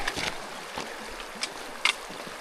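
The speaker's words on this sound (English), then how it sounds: "looks like we got our first like real water crossing" A stream flowing across a hiking trail on the Colorado Trail, a steady broadband rush of running water close by, with a few brief splashy bursts and no talking.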